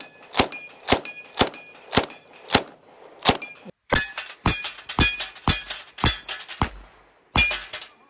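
A Thompson submachine gun fires shots that ring off a steel plate rack: about a dozen sharp metallic clangs, evenly spaced at first, then quicker and heavier, each with a short ringing tail.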